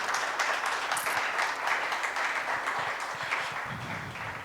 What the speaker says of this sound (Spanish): Vamos, denle un aplauso a Cristo.